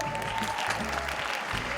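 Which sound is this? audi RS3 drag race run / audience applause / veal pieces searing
audience applause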